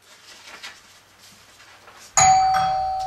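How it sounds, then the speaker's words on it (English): Bells on a front door ring out suddenly as it opens, a bright loud jangle that cuts in after quiet room tone and lingers with a ringing decay. "The bells jingle as the front door opens and Lewis Morris enters"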